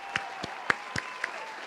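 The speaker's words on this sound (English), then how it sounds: "Let me give an applause to Wendy." Light, scattered clapping for Wendy Williams, sparse individual claps rather than a full crowd ovation, moderately close with a faint background hum.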